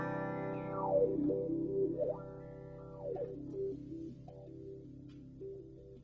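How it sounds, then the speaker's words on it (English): A warbling synthesizer tone from a Moog CP 251 whose filter cutoff is swept up and down in uneven jumps by random sample and hold, over a steady droning chord, with no voices. "I can sweep the random sample and hold up or down with my pedal as well"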